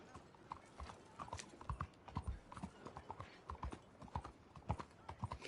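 Horse hooves clip-clop at a walking pace on a street in Red Dead Redemption 2, in a quiet, uneven rhythm of soft thuds with faint background game sounds.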